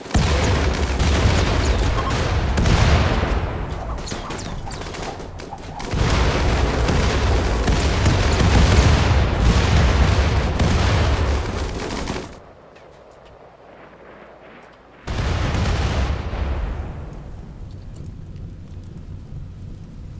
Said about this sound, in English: Like, legitimately have never seen that many rockets in my life.